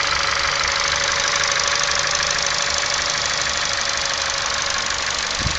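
A 2011 Ford Fiesta's 1.6-litre petrol engine idles with a steady, loud, even mechanical drone, heard alone with no talking.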